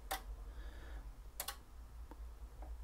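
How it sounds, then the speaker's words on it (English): Relays in an RM Italy BLA350 Plus 300W linear amplifier with a fault click a few times at irregular intervals, sharp and close, over a quiet low hum. "All the relays are clicking nicely."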